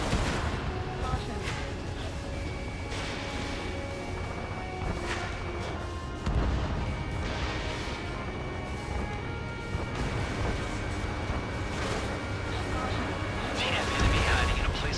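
Anti-aircraft guns being destroyed in a combat flight video game: rapid bursts of gunfire and crashing explosions over constant jet engine roar, with radio voices talking throughout.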